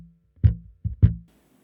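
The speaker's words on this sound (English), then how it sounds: "The other technique is ghost notes, which is when you pluck the string but completely mute it." Bass guitar ghost notes, plucked strings fully muted by the fretting hand, giving three short percussive thumps with no sustained pitch, close and alone with no talking.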